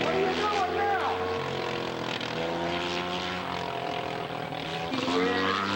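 A scale model French airplane flies at an aircraft show, its propeller engine droning loudly and shifting in pitch as it passes, with someone talking over the engine noise.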